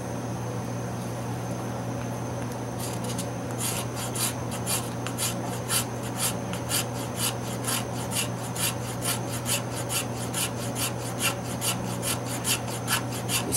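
A carbide scraper shaving fatwood for fire starting, rhythmic rasping strokes repeating steadily at close range over a low background hum, with no talking.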